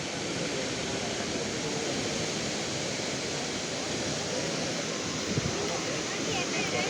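Water of Dunhinda waterfall in Badulla rushes and plunges in a steady, dense roar that stays loud and unbroken throughout, with faint voices talking underneath.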